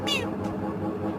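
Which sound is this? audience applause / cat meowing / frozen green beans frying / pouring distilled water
cat meowing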